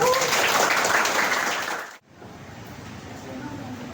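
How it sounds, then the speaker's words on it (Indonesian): Students clap together in a school classroom, a thick burst of applause lasting about two seconds before it cuts off abruptly into quiet room tone with faint murmurs. "Tepuk tangan semuanya"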